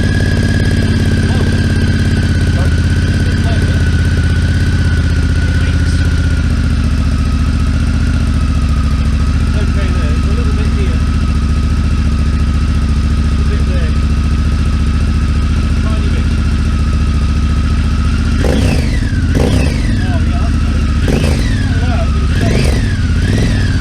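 A Honda NT1100 motorcycle fitted with a Pipewerx endcan idles steadily and loud near the exhaust, then gets several sharp throttle blips toward the end.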